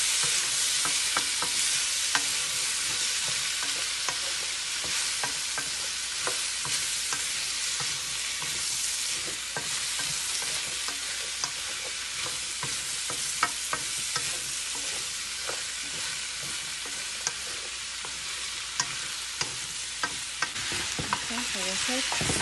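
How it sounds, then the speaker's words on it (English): Fish stuffing stir-fries in a pan with a steady broad sizzle, while a utensil scrapes and clicks against the metal throughout, close and continuous, with no talking. "you just stir fry"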